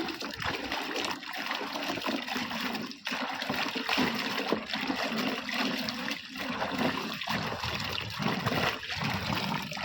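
Water splashing and trickling steadily as the rinse water is changed while washing sapodilla fruit, a continuous close wet pour with small splatters and no talk.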